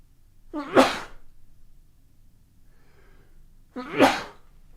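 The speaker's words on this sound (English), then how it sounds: "Hold on, I gotta sneeze." Two sharp sneezes burst out a few seconds apart, close and loud, each with a quick intake before it, against a quiet room.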